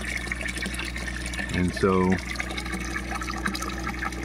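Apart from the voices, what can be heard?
water being pumped out of a duckweed pond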